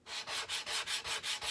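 A spokeshave iron is stroked back and forth over an abrasive on a board, giving a steady rhythmic scraping rasp of about eight even strokes, close and alone.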